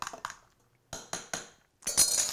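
A spoon clinks against a glass while a rum and Cherry Coke Jell-O mixture is stirred: a few sharp, separate taps with short silences between them, followed by a louder, brighter rattle at the end.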